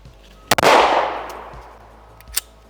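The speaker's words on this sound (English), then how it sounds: "We'll shoot the little rifle target here." A single loud Honor Defense Honor Guard pistol shot at an outdoor range, a sharp crack followed by a long reverberant tail, with a few faint clicks before and after.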